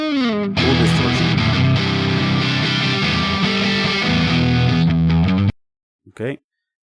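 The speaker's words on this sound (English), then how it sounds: "Nice. Full distortion." Loud, saturated electric guitar through an amp-simulator plugin at full distortion plays thick distorted chords for several seconds, then cuts off, followed by a brief spoken word.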